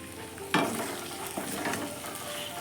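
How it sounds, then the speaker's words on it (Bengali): Spices are stir-fried in a pan for a home-cooked egg curry, a steady close sizzle with a sharp scrape of the spatula and a few more stirring strokes over the frying. "মশলাগুলো ভালো করে কষিয়ে নিয়েছি"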